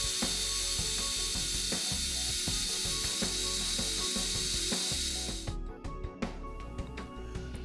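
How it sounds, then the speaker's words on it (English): A steady, grinding drill runs continuously for several seconds drilling pilot holes in a steel roof, then winds down into scattered clicks and knocks of metal work. "Drill your pilot holes using either a J-sized or 1/4-inch drill bit."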